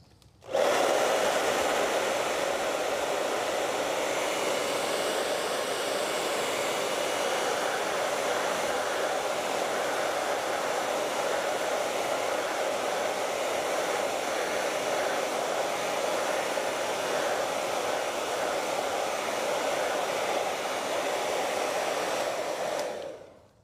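A hair dryer blows steadily on acrylic paint, a loud, even whooshing hum running nonstop for over twenty seconds before switching off, with no talking.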